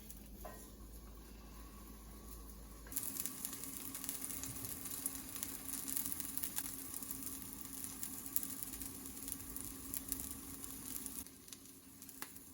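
Ragda patties sizzling and frying in a pan, a steady close crackle that grows a little busier after a few seconds, with soft patter and no talking.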